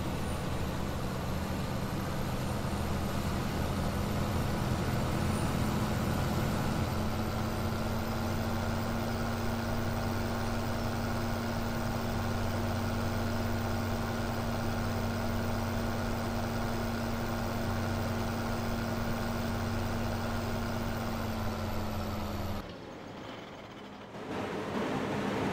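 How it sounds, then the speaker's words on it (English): Tractor engine idling steadily in a driving video game, a constant low diesel rumble with a droning hum that holds for a long stretch before briefly dropping off near the end. "I know I probably shouldn't stop that tractor that quick"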